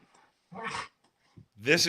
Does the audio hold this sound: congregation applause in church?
no